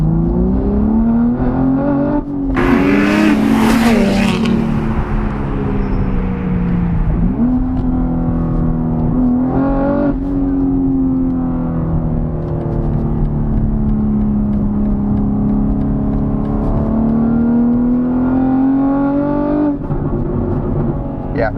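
A modified BMW G80 M3 with a manual gearbox, Valvetronic exhaust, single mid-pipe and catalyst downpipes, its engine droning loudly and steadily with rising and falling revs and a sharp blip near the start.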